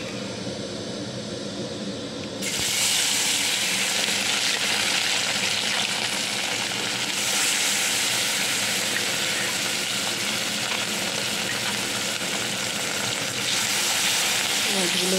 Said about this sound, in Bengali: মাছগুলো ভেজে নিই, মাছটা ভাজা নিচ্ছে।